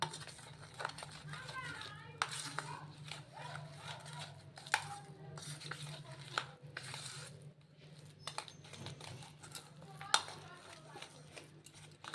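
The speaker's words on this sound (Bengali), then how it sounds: "এবার পুরোটা ভালোভাবে কিন্তু একদম ফেটিয়ে নিতে হবে" Chilli pakora batter made with egg is whisked in a bowl, making quiet, irregular metallic ticks and taps over a low background hum, with a faint voice now and then.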